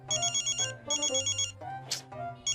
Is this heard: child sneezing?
no